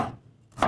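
A knife slicing onion lengthwise, two crisp close cuts against a cutting board, one at the start and one near the end of the short clip.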